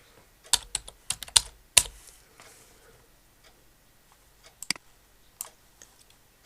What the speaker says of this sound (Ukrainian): Набираємо слово бегемот